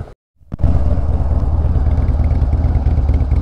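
Brief silence, then a custom Harley FXDB motorcycle with a 103 engine and Woods TW-222 cam roars up close, a loud deep throbbing rumble that holds steady and powerful to the end.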